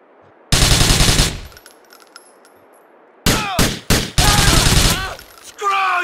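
Gunfire in GTA IV crackles in bursts: a dense volley up front, then after a quiet gap several sharp rapid shots and another longer burst, loud and close, with a voice shouting near the end.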